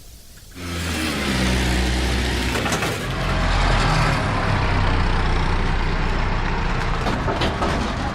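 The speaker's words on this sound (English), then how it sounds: "The motor starts up fine, but as soon as I throttle up, the engine dies." A pontoon boat's outboard motor with a fault that makes it die under throttle starts up and runs loud and close, its engine note rising and dipping over eight seconds with no talk.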